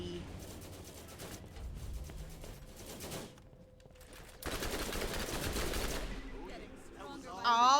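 An alien gun fires in Borderlands, rapid machine-gun-like bursts in two loud stretches separated by a brief lull, with a player talking between the shots.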